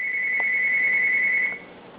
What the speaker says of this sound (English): I apologize for the phone ringing.